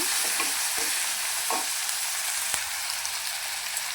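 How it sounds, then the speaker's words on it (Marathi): Finely chopped onion frying with curry leaves, cumin and mustard seeds in a pan, giving a steady bright sizzle with a few soft scraping stirs near the start, close by with no talking. "बारीक चिरलेला कांदा चांगला ब्राऊन होईपर्यंत परतून घ्या"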